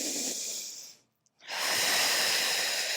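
During a Pilates exercise a person takes one deep breath: a long airy exhale, then a short silent pause, then a strong steady inhale that carries on to the end, close and alone.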